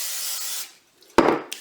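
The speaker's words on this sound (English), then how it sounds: "And I spray it on my hands." Pam cooking spray hisses briefly onto hands, a close short burst following an earlier longer hiss, with a faint rub after.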